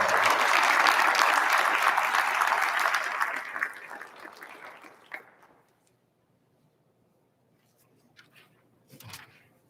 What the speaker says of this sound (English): So let's give it a round of applause for Paul and Diane